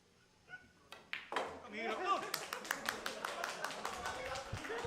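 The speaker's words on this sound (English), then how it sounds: "I'm not sure if they're really applauding" Spectators at a billiards association match break into scattered then sustained clapping, close by, with a voice talking over the start.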